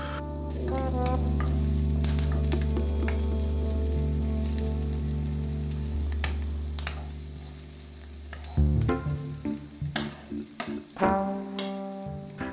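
Chopped spring onion rings sizzle and fry loudly in a hot pan, a steady crackle that breaks after about eight seconds into uneven bursts of spitting and scraping, with no talking.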